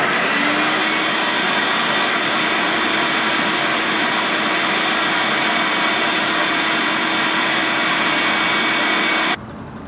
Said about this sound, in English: at 13 minutes, I'm going to go ahead and turn on the shop vac.